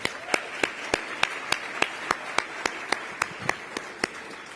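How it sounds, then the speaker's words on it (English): Applause at a media literacy conference's opening speeches, sparse and fairly faint, a steady series of distinct single claps at an even pace rather than a full ovation. "please again join me in giving Sherry a warm round of applause"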